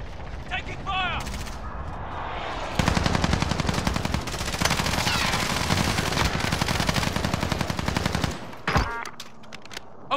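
Rapid automatic gunfire from the Call of Duty: Modern Warfare video game on PS4 rattles in a long, dense, loud burst after a few scattered sounds, then cuts off abruptly near the end.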